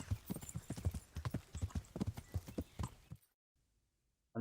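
Horse hooves clip-clopping at a steady trot in Kingdom Come: Deliverance, close and rhythmic for about three seconds before cutting to near silence.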